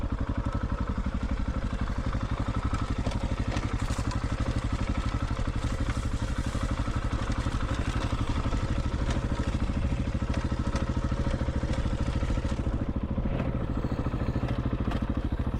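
A Husqvarna 701 dual sport motorcycle rides off-road, its single-cylinder engine chugging continuously and loud up close, with clattering and crackling from the rough terrain throughout.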